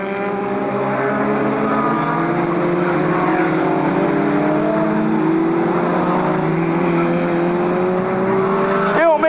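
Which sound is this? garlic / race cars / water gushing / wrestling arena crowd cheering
race cars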